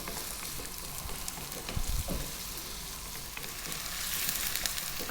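Carrots and mixed vegetables fry in a pan for a lentil vegetable stew, a steady soft sizzle with a few low knocks as they are stirred, no talking.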